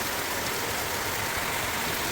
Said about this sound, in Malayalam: നമ്മൾ വീട്ടിലേക്കുള്ള ആദ്യത്തെ മഴയാണ്